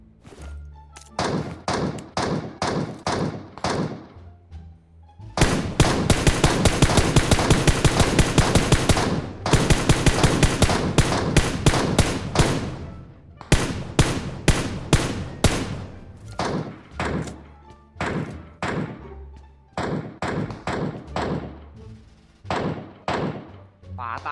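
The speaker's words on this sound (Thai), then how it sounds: "มีคนยิง SKS" Rifle gunfire in PUBG Mobile, an SKS among the weapons, sharp close shots in spaced single pops and long rapid bursts, with players talking over the exchange.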